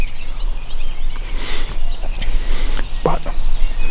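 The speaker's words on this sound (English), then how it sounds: "There's a bunch of birds gobbling." Several wild turkeys gobble at a distance outdoors in New York State, three or four birds calling in brief bursts, one louder gobble standing out near the end over steady wind and background noise.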